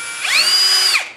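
An electric drill spins up against an old engine valve to grind off carbon deposits, a steady high whine rising then winding down over about a second, close and loud with no talking.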